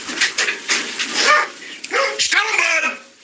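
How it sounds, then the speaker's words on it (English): A dog barks and whimpers in short, excited bursts during a search, mixed with loud voices of people calling out over and around the yelps. "The dog's called Leroy, I love it."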